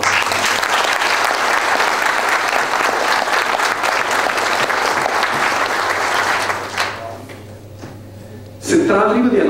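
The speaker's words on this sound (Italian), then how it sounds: "Mi da pidi un applauso naturale." A loud, dense round of audience applause at a televised tribute to a pianist fills most of the moment, then fades out abruptly before a brief new sound.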